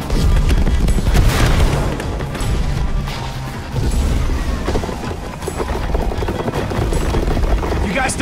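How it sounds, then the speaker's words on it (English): Fireworks going off in Minecraft: Story Mode, a loud dense barrage of booms and crackles that keeps rolling without pause under a busy game soundtrack. "Fireworks!"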